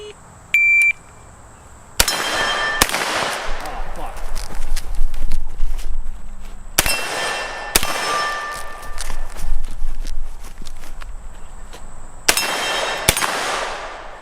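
A B&T GHM9 9mm pistol-caliber carbine fires at steel targets outdoors. Loud shots come in a few spaced pairs and groups, each followed by a ringing clang, with faint footsteps and handling noise between them.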